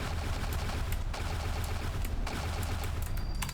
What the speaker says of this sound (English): let's fire off a few shots just to check